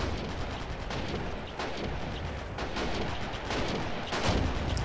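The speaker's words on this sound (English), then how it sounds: "Another strong point on the right now is halting Handzy's advance with a mortar in a nice position" Dense, continuous battle noise of machine gun and mortar fire in a WWII strategy video game set on the outskirts of Stalingrad, with repeated sharp bursts and booms layered over a steady roar, fairly loud throughout.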